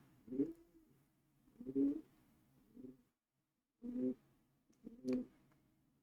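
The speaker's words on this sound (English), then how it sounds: "Pigeon sounds scare me." Pigeon coos, about five soft low cooing calls in irregular bursts with short pauses between, fairly close and quiet against a near-silent background.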